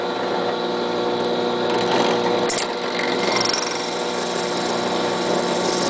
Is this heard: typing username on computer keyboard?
no